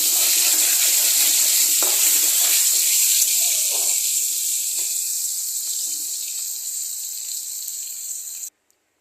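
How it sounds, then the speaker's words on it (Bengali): Potato pieces fry in hot oil with a little salt in a pan, giving a loud, steady, close-up hiss of sizzling that continues evenly and then cuts off abruptly. "একটু লবণ দিয়ে আলুগুলোকে ভাজা করে নেব।"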